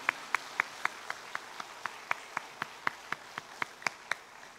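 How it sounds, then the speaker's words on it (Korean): A church congregation at a Sunday worship service claps in a slow, evenly spaced rhythm of sharp hand claps at moderate distance. "감사의 박수를 돌립니다."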